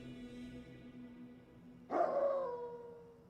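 Dogs bark in the Tainted Grail video game, a sudden loud yelp-like burst about two seconds in that rings out briefly over a quiet musical game background.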